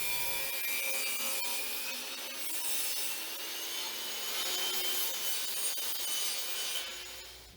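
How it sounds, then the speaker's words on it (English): A hand saw cuts through a 3/4-inch-thick pallet wood deck board, a steady, close, rasping stroke that runs almost without a break and fades at the end. No voices. "You can also use a hand saw to make this cut."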